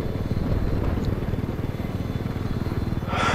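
An enemy helicopter flies close by in Battlefield 4 on the Caspian Border map, its rotor giving a loud, steady, rapid low chop that throbs evenly throughout, with no voices heard over it.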